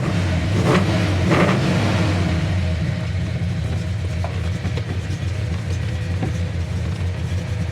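Engine of a 1969 Chevrolet Chevelle SS with a 454 V8 and Muncie 4-speed, starting and running in a loud, steady, close rumble that settles into an even idle.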